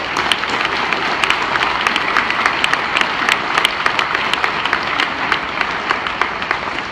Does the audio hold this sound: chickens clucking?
no